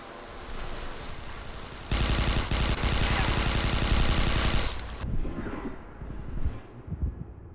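Dense automatic gunfire bursts from Interstellar Marines, a first-person shooter, loud and sustained for about three seconds, then cutting off into quieter ambient game sounds with a few faint thumps.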